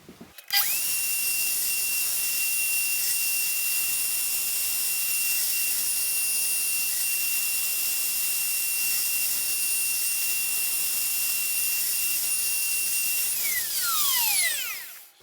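A router cutting finger joints in wood on a WoodRat jig: a loud, high, steady whine held for about thirteen seconds, then spinning down at the end.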